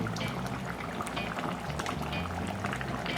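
Jamaican mutton gravy bubbles in a pot, a close, continuous burbling with dense popping bubbles at a steady moderate level, and no voices.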